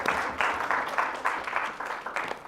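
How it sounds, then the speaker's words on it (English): Audience at a talk on democracy breaking into a brief burst of applause, several rhythmic claps from a modest crowd, no speech. "got a few claps for that."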